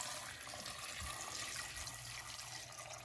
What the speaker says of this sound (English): So here's our 2 quarts of water going in.